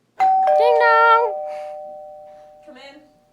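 A two-tone doorbell chimes once, a bright ding followed by a sustained ringing tone that slowly fades, in a quiet indoor scene with faint voices afterward.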